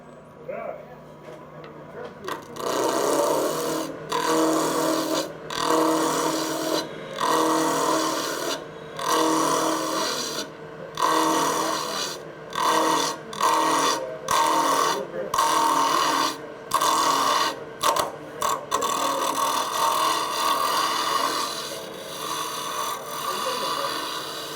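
Skew chisel levelling a wood spindle on a turning lathe, a loud rasping cut that comes in repeated strokes with short gaps, close and continuous over many seconds.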